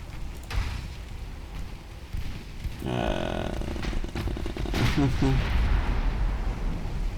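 A warship fires a torpedo in the naval battle game Ultimate Admiral Dreadnoughts, amid quiet booming gunfire and splashing effects, with a few sharp bursts and a voice speaking over the game sounds.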